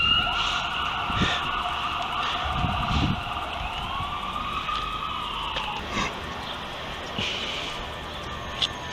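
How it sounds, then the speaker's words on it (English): Several police car sirens wail outside, their rising and falling tones overlapping and sweeping continuously over a steady background hum, with a few sharp clicks in between. "every siren, every cop car, every police car is suddenly on the job"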